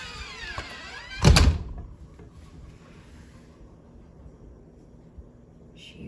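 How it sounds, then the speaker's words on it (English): A door thuds loudly as a woman heads inside from an outdoor chicken area, a single heavy knock followed by faint wind and quiet ambience. "Watch when I go in the door."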